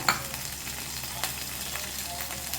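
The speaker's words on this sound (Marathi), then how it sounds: "हे चांगलं परतून घेऊया मसाला आपण" Masala spices with red chili powder, coriander-cumin powder, turmeric and garam masala sautéing in a pan for egg curry, with a soft steady sizzle and a few light spatula taps, close and fairly quiet.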